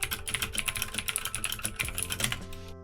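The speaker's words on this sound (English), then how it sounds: "I put my keyboard clacks in there." Computer keyboard keys clack in a fast, steady run of close, crisp strokes that stop abruptly at the end.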